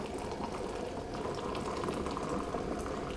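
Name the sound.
electric water heater boiling water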